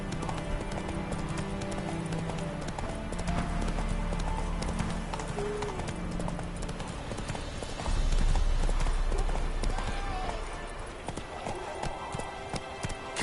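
Roach, Geralt's horse in The Witcher 3 video game, clip-clops along in a steady, continuous hoof rhythm, moderately close, over a game soundscape of ambient music and background noise.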